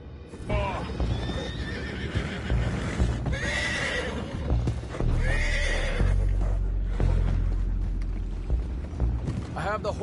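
Horses in the Red Dead Redemption 2 video game neigh and whinny repeatedly amid clip-clopping hooves and rumbling game sounds, with characters speaking over the commotion.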